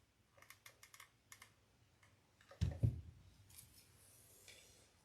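Scissors trim wreath stems while an ivy and daisy welcome wreath is assembled: a run of light, quick clicks, then a louder, crunchy close snip, with no talking.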